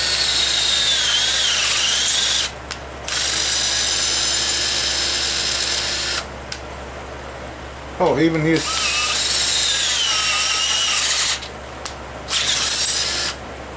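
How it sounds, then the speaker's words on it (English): A low-power 3/8 electric drill works on an engine cylinder casting, running in loud sustained bursts with short pauses and a brief bogging whine, while someone speaks briefly. "that's why you use a low power drill, none of your high torque drills"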